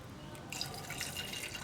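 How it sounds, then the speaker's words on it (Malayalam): A quiet stream of water pours into a pressure cooker over chickpeas, a soft splashing trickle that starts partway through and continues steadily. "ഇതുപോലെ കടലയുടെ മുകളിൽ നിൽക്കുന്ന അളവിൽ വെള്ളം ചേർക്കാം."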